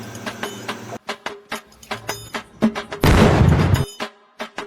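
Diwali firecrackers bursting nearby, a loud rapid series of sharp cracks with a dense crackling burst in the middle, followed by a few more scattered pops.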